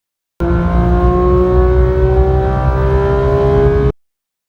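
Steady, loud car engine revving sound effect held at high pitch for a few seconds, starting and cutting off abruptly.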